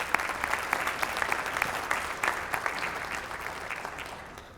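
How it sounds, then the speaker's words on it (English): An audience at a welcome session and panel discussion gives the panel a round of applause, moderately loud crowd clapping with distinct sharp claps standing out, sustained and easing toward the end. "So please give the panel a round of applause."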